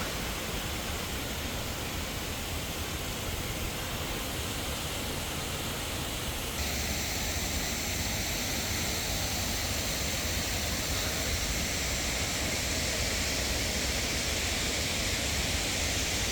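The waterfall at Hanging Garden in the UAE makes a steady, broad rushing roar, constant and close, growing slightly fuller partway through.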